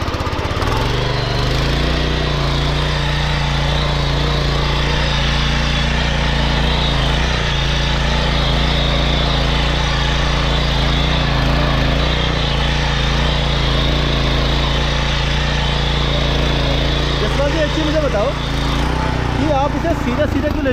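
A hand tractor's engine runs steadily while ploughing a field in Uttarakhand, a loud, constant chugging drone close by that holds throughout without a break.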